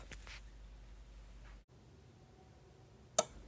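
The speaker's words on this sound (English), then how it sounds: "So there you heard the relay turn the circuit off." A single sharp click rings out near the end after a stretch of quiet, faint hum: the relay on an XH-W1209 temperature controller module snapping off.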